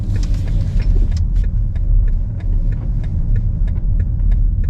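A BMW X7 M50i SUV making a U-turn on a narrow three-lane city street, a steady low engine rumble heard close up, with light clicks ticking through it.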